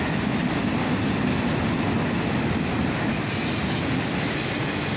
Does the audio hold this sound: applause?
no